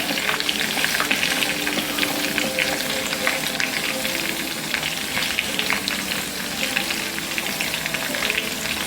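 Pork, tomato and jalapeno stir-fry in a hot pan, a loud dense crackling sizzle that stays constant and close, with no voices over it.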